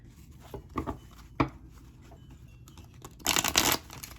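Tarot cards being shuffled by hand, a few soft scattered riffles and taps followed by a louder burst of flicking cards near the end, close and alone.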